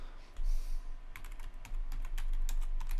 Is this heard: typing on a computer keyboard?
yes